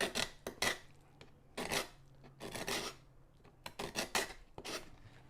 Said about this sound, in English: you'll take the scraper and we'll scrape away